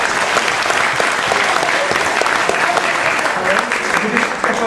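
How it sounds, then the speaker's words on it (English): Steady audience applause at a magic show as a volunteer comes up on stage, dense continuous clapping from a crowd, loud and unbroken. "Keep the applause going, please."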